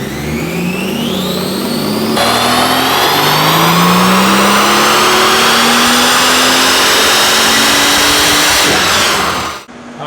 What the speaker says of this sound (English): that was our first clean pull that didn't rip off the dyno or smoke the tires